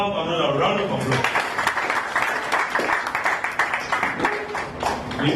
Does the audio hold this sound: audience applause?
yes